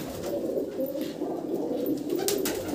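Many pigeons coo steadily in a breeding loft, a dense, continuous chorus of low burbling calls close by with no speech.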